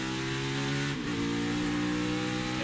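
A NASCAR race car on the Charlotte Motor Speedway road course revs loud and close during a downshift, its steady harmonic engine drone dipping briefly and then climbing back.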